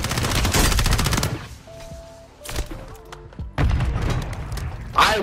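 Gunfire and a grenade blast in the shooter game Warzone: a rapid automatic burst, then quieter sporadic shots and thuds, followed by another heavy explosive boom and more firing, loud and close, with brief voices mixed in.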